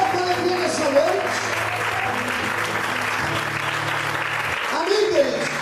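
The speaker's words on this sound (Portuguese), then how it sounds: "Aplauda o Senhor com alegria nessa noite." A church congregation applauds together through a worship service, a steady sustained wash of clapping with organ or keyboard tones underneath and a voice coming in over it near the end.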